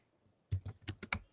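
Five quick keystrokes on a computer keyboard tap out in an uneven burst, close and quiet, after a short moment of near silence, with no voices.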